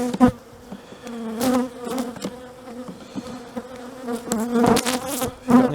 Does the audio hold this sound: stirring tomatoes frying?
no